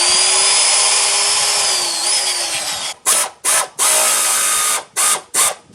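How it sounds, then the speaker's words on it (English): A pneumatic air tool drives bolts into a gooseneck trailer's new oak deck, a long continuous high whine followed by several short, loud, spaced bursts. "Air tools are cool, man."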